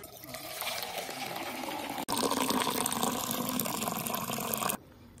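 Herbal kashaya decoction poured into a vessel, a steady close liquid stream with a brief break before the flow resumes and then stops abruptly.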